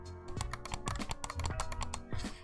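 Mouse-click triggers on a Battle Beaver Pro Pick Xbox controller produce rapid crisp clicks held close to the microphone, a quick irregular run of sharp taps with no talking.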